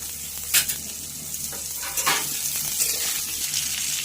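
Raw mango pieces are added to a hot, sizzling pan for a sour shol (snakehead) fish curry. A steady close sizzle runs throughout, with a few brief clinks and stirring scrapes.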